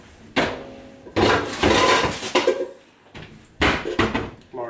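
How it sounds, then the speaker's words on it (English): Clattering knocks and bangs of cookware being handled in a kitchen cupboard as a large skillet is pulled out, several close, loud bursts separated by short pauses. "Now, we're going to get a large skillet."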